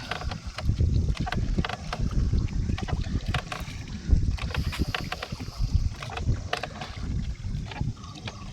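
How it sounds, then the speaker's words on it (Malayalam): A small rowing boat is paddled across the water toward a tribal settlement in Amboori, with uneven splashes and knocks of the oar over a low, wind-buffeted rumble, close and irregular. "നമ്മുടെ ചേട്ടൻ തുഴയാണ്."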